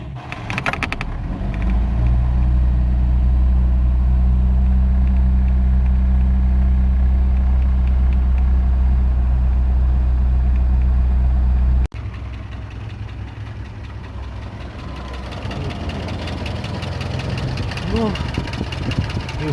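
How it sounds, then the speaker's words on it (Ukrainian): An engine cranks and catches after a spark plug blown out while running was replaced with a longer one, then runs with a loud, steady idle rumble that shifts in tone partway through and keeps going. "пробуємо запустити двигун після заміни свічки на довшу"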